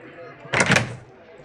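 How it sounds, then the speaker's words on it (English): A door swung shut in the game Gene Gorge 2 Infestation, one brief muffled thud against a quiet room tone. "Let's close the door."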